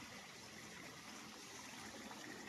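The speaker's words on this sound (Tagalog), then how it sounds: "itong mini sapa na ito." A small stream on a seaside farm property trickles steadily with a faint, even hiss of running water, continuous and unbroken.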